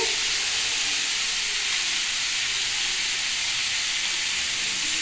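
Chopped tomatoes hit hot oil with panch phoron in a frying pan for a jackfruit-seed curry, giving a loud, unbroken hissing sizzle close up, with no talking.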